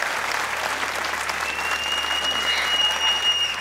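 Studio audience applause on a television comedy game show, a dense, steady wash of clapping that fills the whole stretch, fairly loud and close, with no talking over it.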